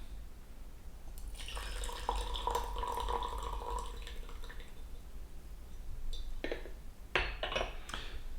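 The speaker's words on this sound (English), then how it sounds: "when I pour out the tea, like I'm doing right now" Tea is poured out of a gaiwan, a soft splashing trickle with light porcelain clinks, steady for a few seconds and then broken into short drips and taps near the end.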